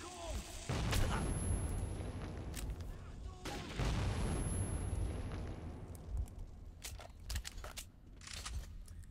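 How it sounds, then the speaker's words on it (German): Two heavy booms from grenade blasts in the shooter game Metro 2033, the first about a second in and the second near four seconds, each with a rumbling decay, followed by scattered sharp cracks and shouting voices. "Auf den Boden! Granate!"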